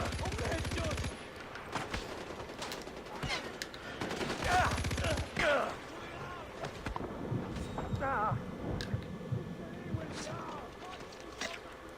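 Gunfire in the video game Far Cry 4 comes in loud, dense bursts and volleys over a busy mix of game sounds, with someone talking over parts of it.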